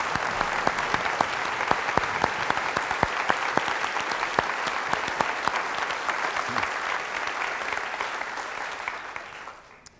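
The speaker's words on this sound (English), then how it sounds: "so I think we'll all get up on our feet and give them a round of applause" A large audience on its feet for a standing ovation, dense steady clapping close and loud for about ten seconds before thinning at the end.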